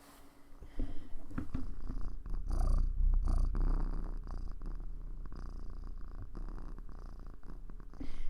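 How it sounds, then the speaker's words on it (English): A female pet cat purrs loudly and steadily like a motorboat, a continuous close rumble filling the clip with no talking over it. "I don't know if you can hear my cat purring."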